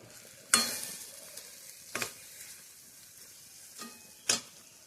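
Vegetables cooking in a pan, a quiet low sizzle broken by a few sharp stirring clatters and scrapes spaced out over a few seconds, no talking.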